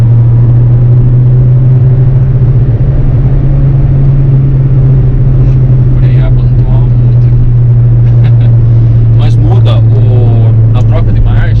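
A Peugeot 307 Feline 2.0 automatic in sport mode, a loud steady engine drone heard from inside the cabin, with a voice speaking over it toward the end.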